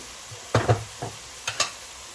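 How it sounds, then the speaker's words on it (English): Potato curry masala with chili powder, turmeric and roasted cumin being stirred in a pan, heard as a few short scraping strokes in two quick pairs over a quiet background. "we need to stir it so that it doesn't burn"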